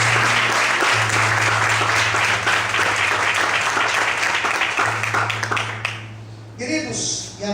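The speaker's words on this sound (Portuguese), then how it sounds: "Desocupa a sua mão e aplauda bem forte" A church congregation applauds loudly and steadily during a worship service, dense continuous clapping with a low held organ or keyboard tone underneath, fading out toward the end as a voice begins.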